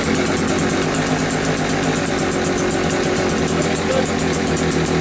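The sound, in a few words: cheap Einhell generator engine pull-started and running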